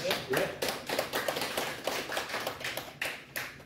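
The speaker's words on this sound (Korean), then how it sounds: "박수 치시죠, 여러분" An audience at a Buddhist lecture class claps in a loose, uneven rhythm of distinct hand claps, moderately close, with a voice talking intermittently between them.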